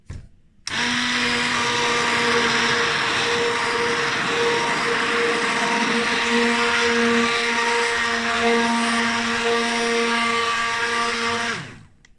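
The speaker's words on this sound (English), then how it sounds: "what we're going to do is blend it until it becomes trace." A blender motor whirs loudly and steadily for about eleven seconds, mixing soap batter, with a constant high-pitched whine, starting and stopping abruptly.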